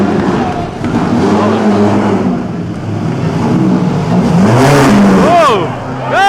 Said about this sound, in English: the Fiat's on the hill and there's a Ferrari behind him